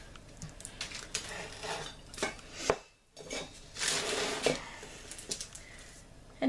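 A knife cuts through a slab of eggnog caramel, giving scattered close scraping and tapping sounds with brief pauses, including a near-silent gap partway through.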